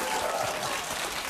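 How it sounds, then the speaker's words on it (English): Dense audience applause fills the moment, a continuous wash of many hands clapping at close range, with a faint voice underneath. "And you can applaud for these."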